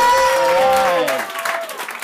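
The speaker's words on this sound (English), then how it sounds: "Big round of applause right now for my man Bret" A stand-up comedy audience applauds for a comedian. A loud tonal voice-like sound glides downward and fades out while scattered clapping carries on.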